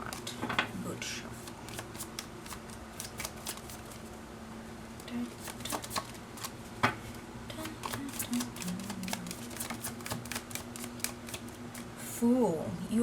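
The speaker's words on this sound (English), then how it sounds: "Oh god, that was not good shuffle." Rapid riffling snaps of tarot cards being shuffled repeat in quick bursts, with a person talking now and then over a low background hum.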